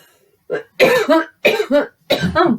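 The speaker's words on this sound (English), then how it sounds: "I'm going to cough. I swallowed and it went down the wrong hole." A person coughs close up in several harsh bursts after swallowing something down the wrong way, pairs of hacking coughs separated by short pauses.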